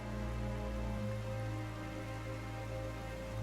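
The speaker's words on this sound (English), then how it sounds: "Why is it raining all of a sudden?" Sudden rain falls in the video game Genshin Impact, a steady, even patter and hiss with a low ambient drone beneath, and no voices.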